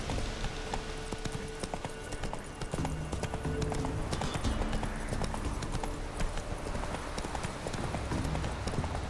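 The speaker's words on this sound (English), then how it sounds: "Run, Roach." Hoofbeats of the horse Roach galloping in The Witcher 3, a steady rapid clip-clop that runs the whole time over game music and ambience, with a brief shout of a voice in the mix.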